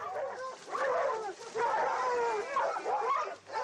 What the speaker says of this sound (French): Regardez tous ces chiens autour du renard.